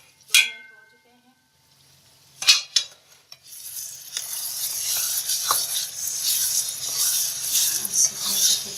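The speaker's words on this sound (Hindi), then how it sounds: "इसे थोड़ा सा फिर फ्राई करेंगे।" Chicken macaroni with vegetables is stir-frying in a pan. After a few early clinks and scrapes, it settles into a steady sizzle with occasional utensil stirring, close and fairly loud.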